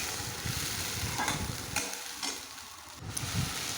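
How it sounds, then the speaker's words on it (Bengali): Spice paste frying and being stirred in hot oil in a pan while cooking a Bengali fish curry, a close steady sizzle with scraping stir strokes throughout, no talking. "ভালো করে মশলাটা একটু কষিয়ে নেব যতক্ষণ না তেল ছাড়ছে মশলার থেকে ততক্ষণ আমি মশলাটা কষাতে থাকবো"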